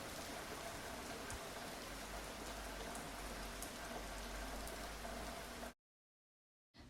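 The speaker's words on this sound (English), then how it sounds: "Rain. Woohoo!" Rain falling steadily in a summer setting, an even dense hiss of drops spattering on the ground, broken off by a short silence near the end.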